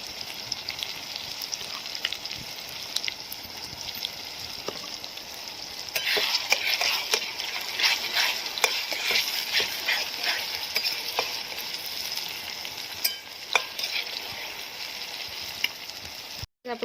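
Ginger, garlic and chili paste frying in a pan for a rustic eggplant bharta, a steady close sizzle and crackle with brief stirring scrapes, louder in the middle stretch, with no talking.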